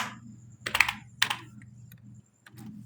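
Keystrokes on a computer keyboard while entering a password into an HTML form, a few soft clustered taps over a steady low hum, close and fairly quiet.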